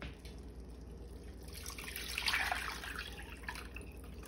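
Water poured from a container into a pot of Caribbean pumpkin soup with smoked meat, a splashing, bubbling pour that swells in the middle and tapers off, fairly close with no talk.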